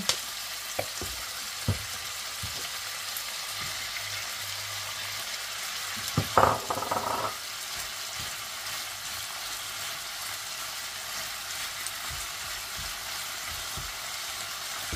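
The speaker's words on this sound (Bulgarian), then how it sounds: "Сега е момента да сложим и лука, леко да се запържи." Onions frying in a pan, a steady sizzle running throughout with occasional stirring scrapes and a brief louder clatter midway, no voices.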